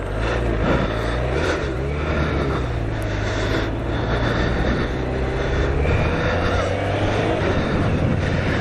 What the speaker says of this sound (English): Today I'm riding my BMW K1200RS